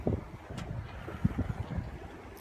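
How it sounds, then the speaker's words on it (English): Strong wind blowing outdoors, buffeting the microphone with a low, uneven rumble and a few sharper gusts, fairly faint overall with no voices. "Hold on, it's super windy."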